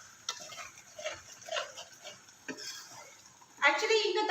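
Tomatoes with masala cooking in a pan at home, soft scraping and stirring with faint sizzling that grows louder and busier toward the end, quiet and close.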